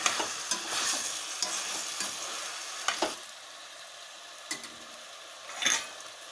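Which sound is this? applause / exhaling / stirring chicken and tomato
stirring chicken and tomato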